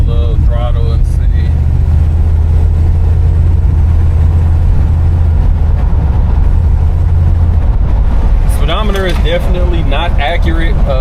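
The engine of a 1957 Chevy Bel Air drones low and steady while the car is driven, a loud close rumble that fills the clip, with someone talking over it near the end.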